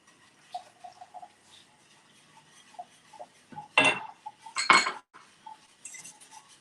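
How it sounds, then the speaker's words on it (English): A whisk scrapes and clinks against a pot as a hummus mixture is stirred in, two louder bursts of metallic scraping standing out among quieter taps and clicks, close and moderately loud with no talking. "I'm going to slowly whisk it in."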